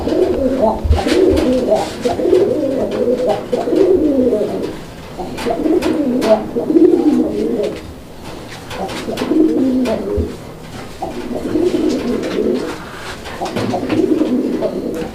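Raj-golla pigeons coo close by in steady, repeated rolling phrases that keep going with short dips between them, loud and continuous, with faint clicks and rustles in the background.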